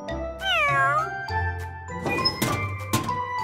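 A cartoon kitten in a children's animated show gives a long, rising and falling meow, then shorter mews with a faint jingle and soft thuds, fairly close and with no talk.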